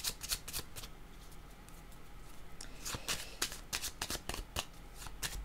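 Playing cards shuffled by hand for a card reading, a quiet close series of quick riffling bursts and soft flicks repeating irregularly, with no talking.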